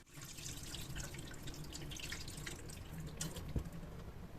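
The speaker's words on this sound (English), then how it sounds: "Now I can drain the water." Water from a bowl of shredded potato pours and splashes steadily into a sink, a continuous close trickling and draining sound.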